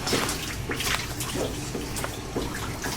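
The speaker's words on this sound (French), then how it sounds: "Fait que je vais vous laisser rincer le devant." Water runs from a salon rinsing spray onto hair in a steady splashing stream, with small drips and shifts in flow as the rinse moves across the head.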